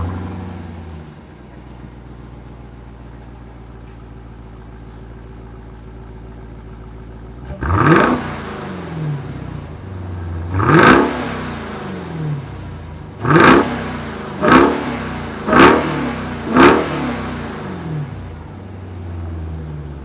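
Dodge Durango SRT Hellcat with its supercharged HEMI V8 idling low and steady, then cranking to life with a sharp bark and blipped five times in quick, loud revs, each surge falling back to a rumbling idle.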